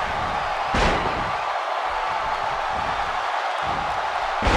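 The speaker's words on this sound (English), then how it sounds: "He just tosses him without an ounce of remorse." A wrestler is slammed to the mat in WWE 2K18 during an Eddie Guerrero vs. Goldberg match. Heavy thuds land early and again at the end, over a steady, loud arena crowd roar.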